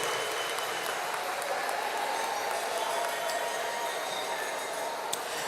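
Audience applause for retiring school district staff at an end-of-year event: a steady, dense wash of clapping from a large crowd, sustained without a break.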